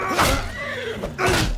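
A horse in the video game Mount and Blade II Bannerlord whinnies loudly, two close neighing bursts with a short gap between them, rising over faint game ambience.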